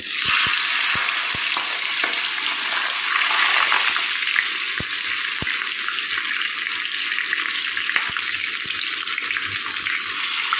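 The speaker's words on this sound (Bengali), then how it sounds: "और तेल गरम हो गेছে। एक एक करे माछेर माथागुलो आमी भेजे नेब।" Rohu fish heads fry one by one in hot oil, a loud steady sizzle and crackle running throughout, with occasional sharp pops and utensil clicks.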